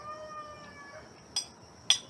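A house cat gives a faint drawn-out meow in a quiet kitchen, followed by two short sharp clatters.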